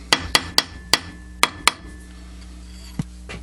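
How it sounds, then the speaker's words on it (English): A hammer strikes hot metal on an anvil for a forged ornament, six sharp ringing blows in a quick uneven rhythm, close and loud, then a pause and one softer knock. "Take it to the anvil and flatten it out."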